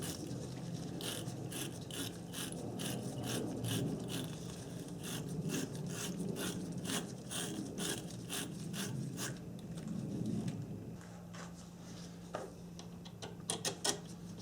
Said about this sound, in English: I'm going to take a battery terminal cleaner.